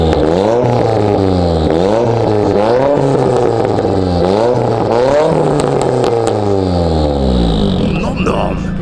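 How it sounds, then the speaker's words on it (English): A Nissan S15 fitted with a Blitz exhaust revs repeatedly, engine rising and falling in pitch in a series of loud, close blips with a raspy exhaust note, a few clicks near the end. "On the back we've got the Blitz nut-spec exhaust, which sounds proper fruity."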